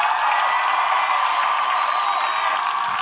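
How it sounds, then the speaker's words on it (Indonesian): An audience at an Indonesian dance competition stage show applauds and cheers in one continuous, steady roar of clapping and crowd noise, with no breaks. "Kita kasih tepuk tangan lagi yuk."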